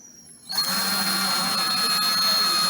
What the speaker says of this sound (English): So we're ready to drill.